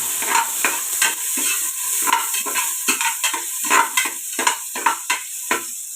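Garlic and ginger sizzling in a pan while a utensil stirs them, with a steady crackling fry punctuated by rhythmic scraping strokes, close and clear, without any talking.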